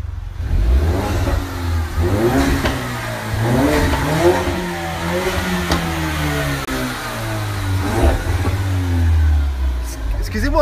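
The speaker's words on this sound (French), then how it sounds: "Votre voiture a fait un peu trop de bruit, je crois." A car engine revs loudly on a street in Beverly Hills, its pitch climbing and falling in repeated surges over a constant low rumble, close and dominant throughout.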